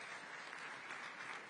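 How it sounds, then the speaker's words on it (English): Audience applause at a live smartphone launch event, a dense, even wash of clapping from a crowd heard at moderate distance, sustained without a break. "Round of applause, please."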